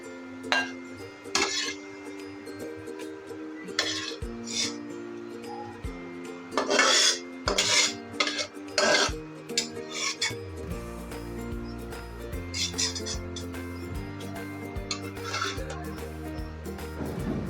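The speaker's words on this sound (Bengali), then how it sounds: "এবার আমি তেল থেকে পেঁয়াজটা তুলে নেব" Fried onions lifted out of hot oil in a pan for a tomato chutney, heard as repeated clinks and scrapes of a utensil against the pan with bursts of metallic clatter over a low hum, no talk.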